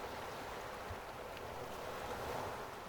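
Water waves wash ashore in a steady, broad rush of surf with a breezy hiss, continuous and moderately soft throughout with no voices.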